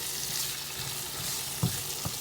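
Onions fry and caramelize in a pan for a beef stew, giving a steady close sizzling hiss with a couple of brief utensil clinks near the end.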